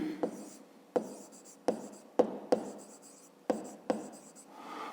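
Pen strokes on paper while working a fifth-grade math exercise: short scratchy bursts of writing in a quiet room, seven or so separate strokes spaced irregularly, close and soft, with no talking.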